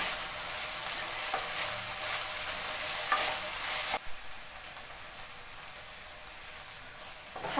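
Dhekia greens (fiddlehead fern) frying in a pan over raised flame, a steady soft sizzle with occasional scraping stirs, fairly close and continuous, quieter after a brief break midway.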